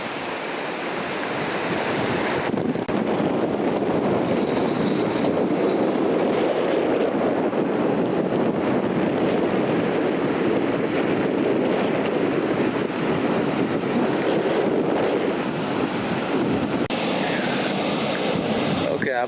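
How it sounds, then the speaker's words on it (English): Strong wind roars on a beach by sand dunes, buffeting the microphone in a loud, continuous rush that swells and eases, with surf noise blended in. "I'm behind the sand dune to get out of the wind"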